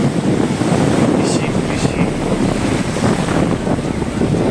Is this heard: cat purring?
no